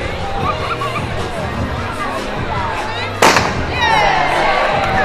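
A sharp starting pistol shot cracks loudly over a large outdoor crowd at an event in Lichtenvoorde, followed by continuing crowd chatter, cheering and whistles.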